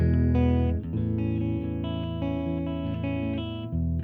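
An electric guitar, a Fender Player Plus Nashville Telecaster on bridge and neck pickups, plays sustained, processed chords through a Fender Hammertone effects pedal, loud and continuous with a brief dip partway through.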